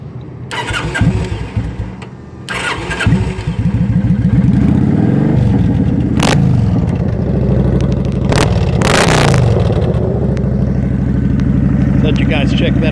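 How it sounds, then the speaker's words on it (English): A 2018 Kawasaki Vulcan 900 Classic motorcycle with a new aftermarket exhaust cranks, starts and settles into a loud, close, deep idle. Sharp throttle blips rise above the idle. "New exhaust has a really good exhaust note."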